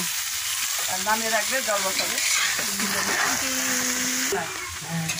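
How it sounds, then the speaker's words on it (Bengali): Chopped vegetables fry in a pan with a steady, fairly loud hiss and sizzle, broken by stirring scrapes, while a voice carries on over the cooking throughout. "এই সবজিগুলো যখন হালকা হালকা ভাজা হয়ে যাবে তারপরে কি দিবা?"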